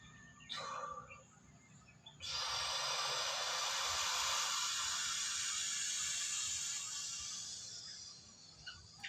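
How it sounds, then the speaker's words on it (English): Slow, passive exhale through the mouth during a breathing exercise, a close, steady breathy hiss that starts softly, swells and holds for several seconds, then fades gradually, with no talking. "I'm going to passively exhale to make some space."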